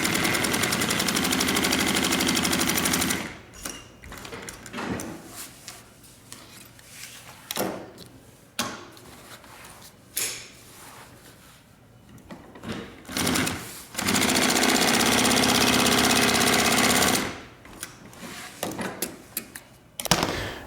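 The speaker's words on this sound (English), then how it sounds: "let's go to the machine and we can sew the top and bottom of this" A sewing machine stitches the top and bottom of a homemade backpack in loud, close, buzzing runs, separated by pauses filled with fabric handling and clunks.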